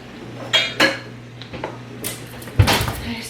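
Cups and dishes clink and knock in a home kitchen while hot chocolate is made on a snow day, several separate close clatters and a louder clunk near the end, with faint background voices.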